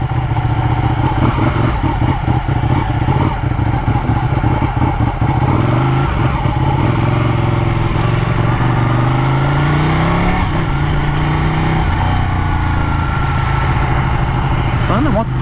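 Ducati Panigale 1299 motorcycle engine running loud and close throughout, with rising and falling revs and a steady throaty drone under occasional voices.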